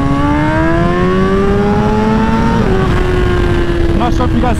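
A 1000cc motorcycle in first gear, with traction control fully on, gives off a loud, continuous engine drone whose pitch slowly rises, then drops abruptly and wavers unevenly as it threatens to cut out, with wind noise throughout.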